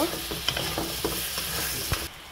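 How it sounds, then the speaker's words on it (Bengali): Potato and bottle gourd with spice paste sauté over medium heat in a pan, with a soft steady sizzle broken by several short scraping stirs before dropping quieter at the end. "এখন দিয়ে দেবো আলু আর লাউ একসাথে। এটাকে একটু ভালোভাবে কষাই নেব।"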